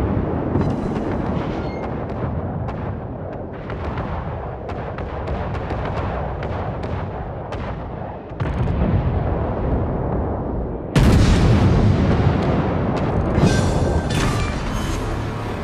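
Heavy naval guns on a warship in World of Warships boom in a series of deep blasts, with a louder, brighter salvo crashing in near the end over a constant rumbling background.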